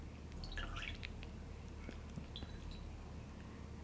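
Water drips and trickles as cotton balls are squeezed, with small splashy clinks and squishes over a steady low background hum.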